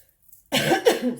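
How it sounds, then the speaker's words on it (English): A single harsh cough, close and loud, bursting out after a moment of near silence. "about the coughing and the sneezing"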